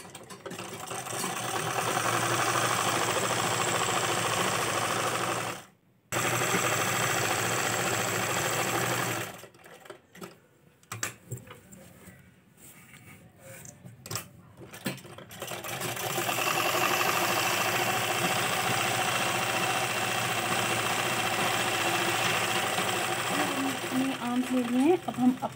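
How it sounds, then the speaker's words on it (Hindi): A sewing machine runs steadily while stitching cloth for a kurti, with a loose stitch being sewn; its whirring hum stops briefly and restarts, interrupted by a choppy stretch, then resumes at a close, even drone. "एक थोड़ी लूज सिलाई लगा लेंगे।"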